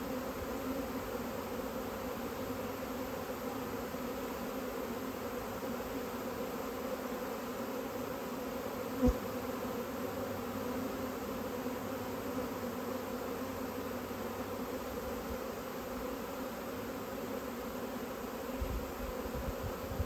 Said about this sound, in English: there's a lot of bees right here fanning